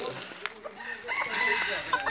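A bantam rooster crows at a crowing contest, its call rising over crowd chatter and other birds, with short harmonic bursts against a busy, noisy outdoor background.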